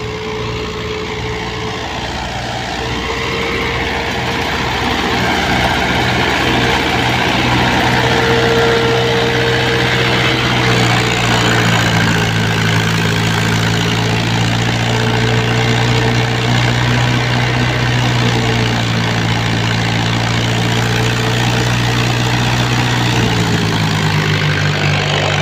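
A Farmtrac 65 tractor engine idles steadily for the whole stretch, giving a loud, close, continuous low rumble with a constant hum and vibration. No voices are heard.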